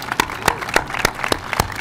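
A small outdoor audience at the MGM National Harbor construction site claps for the construction workers, with sparse, distinct handclaps popping out in an uneven rhythm over quiet open-air background.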